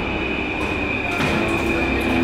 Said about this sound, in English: so now we at the metro